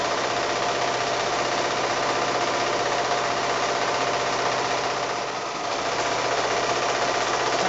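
A sewing machine stitches the last seam of a pillowcase through several layers of fabric, a fast, steady mechanical whir with a rapid needle rhythm and a brief slowdown near the end, no voices.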